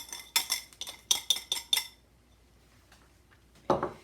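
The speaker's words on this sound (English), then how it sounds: "we're going to go ahead and whisk that right into the egg yolks" A whisk clinks rapidly against a bowl while sugar and cornstarch are beaten into egg yolks, a quick run of bright metallic taps, then a pause and one more brief clatter.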